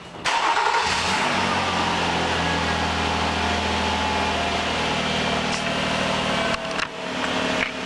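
A car engine cranks and catches, then runs at a steady, loud idle close by before a brief dip and recovery near the end, during a head gasket leak check with the radiator coolant lowered to the bottom of the fill neck.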